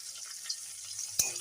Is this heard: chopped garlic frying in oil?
yes